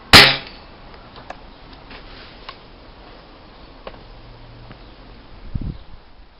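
A single sharp crack of an air rifle shot aimed at a pigeon opens the clip, followed by quiet outdoor ambience and a faint thump near the end.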